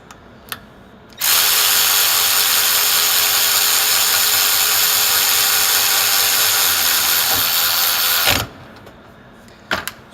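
Snap-on and Milwaukee cordless ratchets spin up together, giving one continuous, loud mechanical buzz and whir for about seven seconds before cutting off, with small clicks just before and after.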